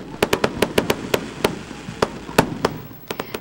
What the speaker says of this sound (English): a grand fireworks display signaled the midnight hour